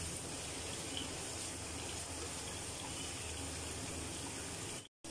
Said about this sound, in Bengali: এখন আমি শাকটা ঢেলে দিচ্ছি